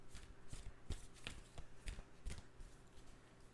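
A deck of cards shuffled steadily and quietly, with a rhythmic train of soft riffles and taps repeating for several seconds.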